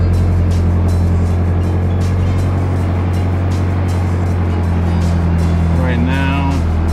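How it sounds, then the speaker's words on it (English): A turbocharged Mazda Miata engine idles rich during a build, a loud, steady low rumble running throughout, with a brief voice near the end. "Alright, so the car is running."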